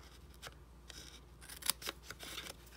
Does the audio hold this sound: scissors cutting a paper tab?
yes